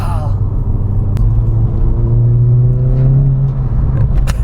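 Seat Cupra Leon with 440 hp pulling hard, a loud steady engine rumble and whir heard from inside the cabin, with rising harmonics as it accelerates and occasional voices over the drone.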